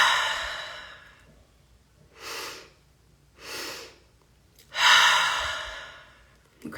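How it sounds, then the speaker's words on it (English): Two short, soft sniffing inhales through the nose, then one long, louder breath pushed out through the mouth, close and quiet. "2 inhales through the nose, letting the air fill your belly and then your chest"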